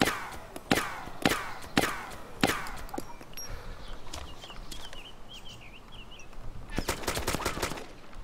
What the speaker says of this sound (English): Yeah, it's probably shooting at you.